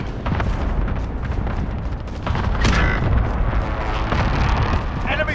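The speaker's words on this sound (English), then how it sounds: "Be advised, friendly precision airstrike inbound." Precision airstrike explosions in Call of Duty: Modern Warfare land as a dense run of loud, rumbling blasts and crackling debris, with game voices speaking through the barrage.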